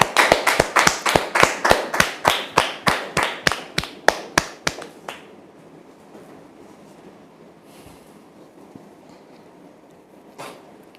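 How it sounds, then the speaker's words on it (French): A single person claps slowly and evenly, about twenty distinct sharp claps in steady rhythm, close and fairly loud, on a French television talk-show set. The clapping then stops, leaving quiet room tone with faint shuffling. "sous vos applaudissements, s'il vous plaît"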